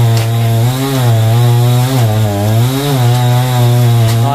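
A chainsaw cuts down a coconut tree, its engine droning loud and close with a steady pitch that dips and recovers several times as the chain bites into the trunk.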